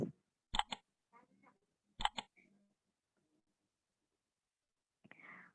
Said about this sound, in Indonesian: Kita klik lagi tombol next.